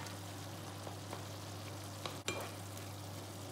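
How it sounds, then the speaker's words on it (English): Tomatoes being crushed in a frying pan for chips masala give a soft, steady sizzle, with a few faint scrapes and one sharper clack near the end, quiet and close. "So I am crushing the tomatoes to make them finer."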